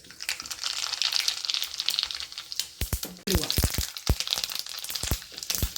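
Mustard seeds crackling in a little hot sesame oil for a garlic pickle, a dense hissing sizzle dotted with sharp popping cracks, close and loud, with a voice faintly underneath.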